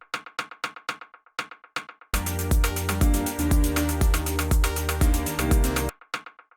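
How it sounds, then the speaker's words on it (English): Rimshot percussion sample for an organic house track, several dry, sharp clicks in an irregular pattern that are briefly joined by a full looping groove with kick and chords, then return to the isolated rimshot hits. "the last thing we have here is this Rimshot"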